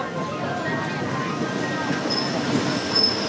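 A train rolls across a river bridge on the Death Railway in Thailand, giving a steady, close rumble of wheels and carriages with a faint high squeal, without a break for the full few seconds.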